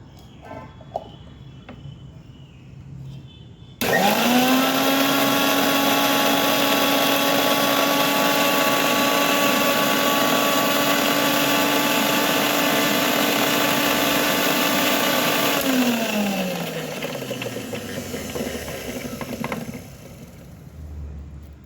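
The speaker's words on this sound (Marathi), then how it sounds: "पाणी घालून नंतर अजून एकदा फिरवून घेऊ।" A kitchen mixer grinder blends spice paste with water, switching on abruptly to a loud steady whine, running about twelve seconds, then winding down to a stop.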